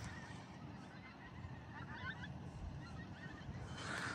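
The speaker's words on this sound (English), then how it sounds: "flock of geese going over." Geese honk faintly in the distance as a flock passes overhead near a river, their calls scattered over outdoor background noise.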